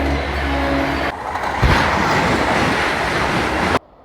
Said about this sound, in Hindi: कटरा वंदे भारत ओवरटेक